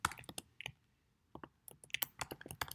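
JavaScript code typed on a computer keyboard, quick clusters of close, crisp key clicks broken by a short pause before another rapid burst.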